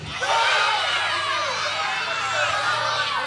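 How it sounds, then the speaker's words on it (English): A professional wrestling crowd at a Shark Boy versus Bubba the Bulldog match, roaring and cheering in a loud, sustained wash of shouts and whoops from a large audience. "Crowd comes alive for professional wrestling's cult hero."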